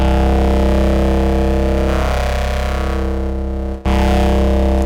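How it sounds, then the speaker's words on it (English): A thick, buzzing bass tone distorted by a wave folder drones steadily and loudly, its harmonics shifting and folding, with a brief dropout near the end before resuming. "And fold, which is a wave folder, so another distortion type."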